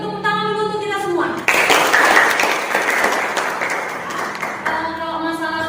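A class bursts into applause, a dense wash of clapping that starts abruptly, holds for several seconds and fades out, with a voice speaking before and after.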